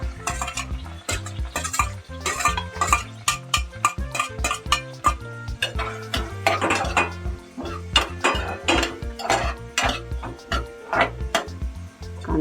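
Chopped onion tossed into a pan of fried curry leaves while cooking a Marathi tondli (ivy gourd) curry, stirred briskly: repeated loud scraping and clanks of a spoon against the pan over a steady low hum, no talking.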